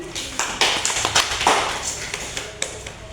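Students in a biology microteaching class clap their hands in uneven bursts, with sharp individual claps spread across about three seconds in a small room, fairly light rather than a full ovation.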